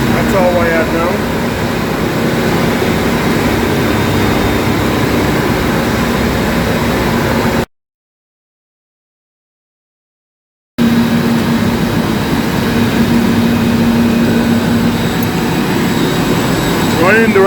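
A replaced squirrel-cage induction electric motor on a pump runs steadily with a constant droning hum and a faint tonal whine, cut by a short gap of silence partway through, with voices in the background.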